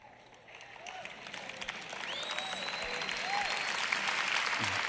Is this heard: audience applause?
yes